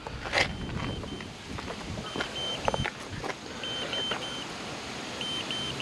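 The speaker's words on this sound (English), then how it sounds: "but I got an alarm going off" Short, faint electronic alarm beeps repeat in a broken pattern from a tire pressure monitoring sensor held in the hand, signalling no air in the tire, under a steady background hiss.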